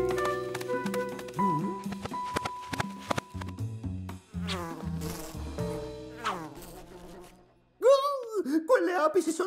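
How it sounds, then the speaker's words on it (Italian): Cartoon bees buzzing inside sacks, a high insect whine rising over busy orchestral music with plucked and sliding notes, loud and continuous, with a sudden swelling buzz near the end. "Quelle api si sono chiuse dentro quei sacchi!"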